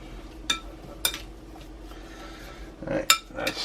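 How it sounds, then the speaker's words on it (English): A utensil stirs chicken burrito filling in a cast iron pan, with a few sharp metallic clinks and scrapes spaced apart and a louder clatter near the end against a quiet background. "And some salt. And just give it a nice stir."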